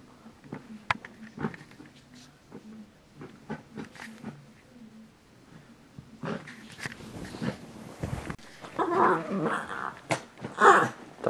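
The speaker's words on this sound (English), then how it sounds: "Dog going crazy during a tornado." A dog growls and snarls in short, sharp bursts during a tornado, louder and more agitated in the second half, with rustling and indoor commotion around it.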